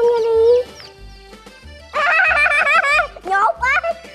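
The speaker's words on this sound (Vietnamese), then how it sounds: "Con gà con, gà con à." Baby chicks caught by hand from a coop give bursts of high, wavering peeps and cheeps, loud and close. Children's voices and a low rumble of handling noise run between the calls.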